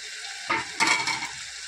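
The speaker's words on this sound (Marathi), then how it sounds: "ती सुद्धा छान अशी परतून घेऊया" Onion-tomato masala paste sautés in hot oil for Malvani kaleji masala, giving a steady sizzle with two louder bursts of stirring and scraping partway through.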